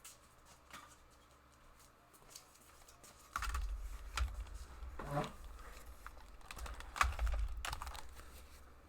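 Keys clatter on a computer keyboard beside a laptop with a broken shift key, faint irregular taps at first, then louder bursts of clicking over a low hum.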